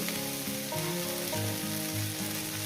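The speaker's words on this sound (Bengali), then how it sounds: "ওই তিন মিনিট কি চার মিনিট এটাকে ভেজে নেব" Small river fish and Malabar spinach fry in a pan with a continuous crackling sizzle, while tonal music plays steadily underneath.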